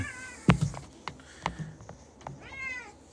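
A cat meows several times close by, short rising and falling calls spaced irregularly, with a longer wavering meow near the end over a quiet room.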